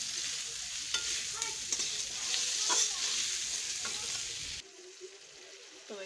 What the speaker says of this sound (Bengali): আদা রসুন পেঁয়াজকে পুরো দিয়ে কষাচ্ছি